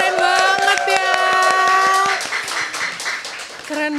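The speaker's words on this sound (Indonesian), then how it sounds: "Tepuk tangan dong semuanya" An audience claps in a quick, even rhythm over loud music with sustained tones at a music-message event, and the claps fade as the music continues.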